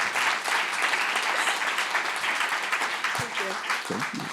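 A crowd applauding steadily with dense, continuous clapping that carries on for several seconds before starting to thin toward the end.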